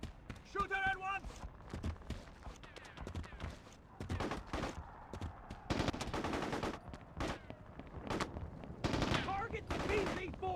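Automatic gunfire and shots in the video game Mercenaries 2, in repeated bursts over a busy battle mix with shouted voices talking throughout.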